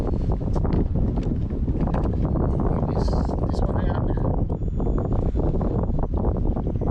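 Steady, roaring wind buffets the microphone throughout, loud and continuous, with someone speaking briefly over it while kayak fishing along an edge of broken sand on the Gold Coast.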